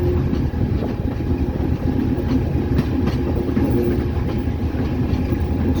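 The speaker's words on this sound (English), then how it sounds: "the locomotive is on dynamic braking currently" Locomotive under dynamic braking pulling a ballast train: a steady, loud, low rumble and roar with faint rail clicks running throughout, no voices.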